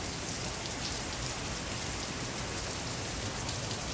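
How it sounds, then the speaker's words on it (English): Heavy pouring rain falls steadily, a dense, even hiss of drops hitting surfaces with no pauses, heard alone at moderate distance. "Pouring rain. Lots of rain."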